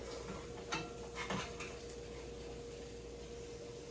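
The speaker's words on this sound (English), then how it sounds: "I'm just going to go ahead and flip these eggs over. Turn this pan around." Eggs being flipped in a frying pan bring a few soft clinks and scrapes of utensil on metal, quiet and close, over a faint steady hum.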